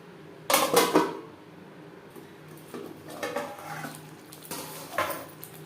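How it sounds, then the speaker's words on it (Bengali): A spatula scrapes and clinks against a pan while spice paste is sautéed on low to medium flame for a rohu fish curry, with a sharp burst of scraping early on followed by softer intermittent stirring; no voices. "লো টু মিডিয়াম ফ্লেমে চার পাঁচ মিনিট মশলা কষিয়ে নেব"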